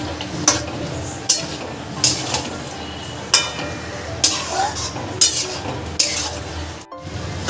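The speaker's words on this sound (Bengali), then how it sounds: "মশলাটা কষানো হয়ে গেছে, এর মধ্যে আমি দিয়ে দেবো ম্যারিনেট করে রাখা চিকেনগুলো।" Marinated chicken stirred into a cooked spice masala for black pepper chicken, with a spoon scraping the pan in repeated strokes and a steady sizzle underneath, close by.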